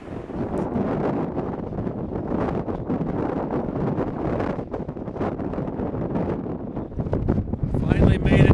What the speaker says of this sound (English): It's still super windy, and the wind is just kind of exhausting to hike in.